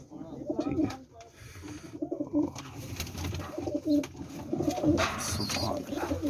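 Breeder pigeons in a Rawalpindi loft, including Ferozpuria birds with their young, cooing in repeated rolling calls close by, with someone talking over them.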